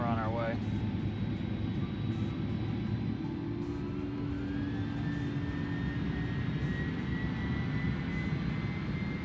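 Jet airliner engines in a flight simulator spool up to takeoff thrust for departure from San Juan to Orlando, with a steady, dense roar and a whine that climbs in pitch partway through.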